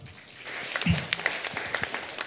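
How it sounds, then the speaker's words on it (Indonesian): Church congregation applause during a prayer rally, a short swell of clapping building from quiet into a moderate burst of hand claps. "Tepuk tangan buat Tuhan."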